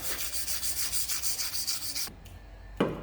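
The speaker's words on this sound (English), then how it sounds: "this one was a bit of a pain to get out, so we're just going to wire brush that" Wire brush scrubbing rust off a strut mount from a Dodge Nitro, steady rhythmic rasping strokes for about two seconds, then a pause and one final scrape, close and fairly loud with no talking.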